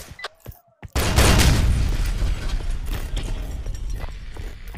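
Loud video game gunfire, a sudden dense volley that bursts in after a few sharp shots and keeps roaring and crackling for several seconds, with no voice over it.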